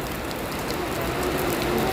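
Steady rain falling on a surface, a dense continuous patter with no voices.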